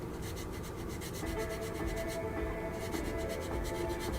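Sandpaper rubs steadily against the plastic of a 1/48 Hasegawa F-22 Raptor scale model, a continuous close rasping hiss in back-and-forth strokes with a brief lighter pause midway.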